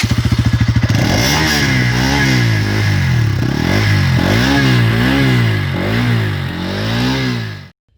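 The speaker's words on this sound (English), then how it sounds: "The exhaust note of the bike is also really nice." A Bajaj Pulsar NS200 BS6 sport motorcycle's exhaust rumbles loudly and steadily, rising and falling through repeated revs before cutting off abruptly near the end.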